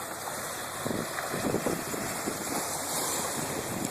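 Ocean waves wash onto a beach in a steady, moderately loud rush mixed with wind buffeting the microphone, with no voices.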